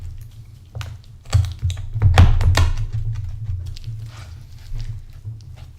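A knife chops through small chicken bones on a cutting board, giving a handful of sharp, close thuds and cracks, with a cluster of hard impacts in the middle and softer taps around them.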